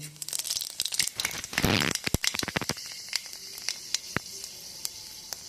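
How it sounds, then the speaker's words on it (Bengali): Panch phoron five-spice seeds dropped into hot mustard oil, a sudden burst of loud sizzling followed by sharp crackles and pops that gradually thin out into scattered spitting. "তেলটা গরম হয়ে গেছে, আমি এখানে দিয়ে দেবো 5 ফোড়ন।"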